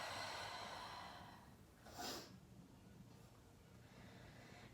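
Quiet, close breathing during a vinyasa yoga class: a soft, sustained exhale, then a sharper breath through the nose, with faint room hush between.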